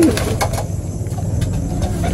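Racing pigeons coo in low, throaty repeated calls close by, with faint wing flutters and background noise around them.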